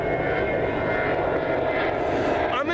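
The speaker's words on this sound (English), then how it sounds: "You gotta be a plane." Fixed-wing airplane passing overhead, a steady broad engine drone holding loud and constant throughout with no talk over it.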